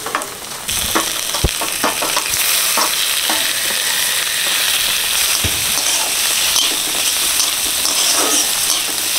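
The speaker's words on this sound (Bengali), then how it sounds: "চিংড়ি মাছটা দিয়ে দিলাম।" Shrimp hitting a hot pan for yam leaf chorchori sets off a sudden loud sizzle that settles into steady, close frying, with occasional clinks and scrapes from stirring and no talking.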